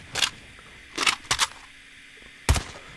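Gunfire from the QQ9 in Call of Duty, a recoil demo: a sharp single shot, then a close pair of bursts, and another shot near the end, each loud and alone against a quiet background.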